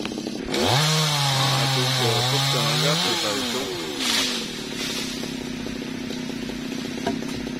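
A chainsaw cuts a large melaleuca tree, its engine loud and close as it revs up and wavers under load for a few seconds, then drops back to a rough idle.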